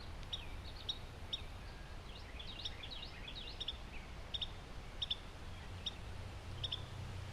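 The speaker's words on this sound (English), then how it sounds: "See if you can hear the sounds of something chirping." Birds chirp along a wooded hiking trail at an arboretum in Baton Rouge, short high repeated chirps at a moderate distance, faint over a quiet steady outdoor background with no talk.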